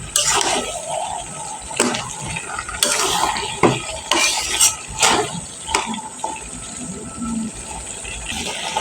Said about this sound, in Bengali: দিয়ে আবার একটু নেড়েচেড়ে মিশিয়ে দেব। নেড়েচেড়ে মিশিয়ে দিচ্ছি।